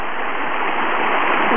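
A river in the Grand Canyon rushes steadily along the Kaibab Trail, a dense, even roar of flowing water heard up close with no breaks.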